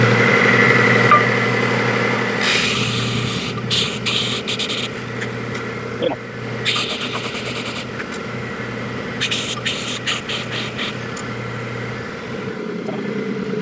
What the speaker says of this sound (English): I'm going to do that here on my vertical belt sander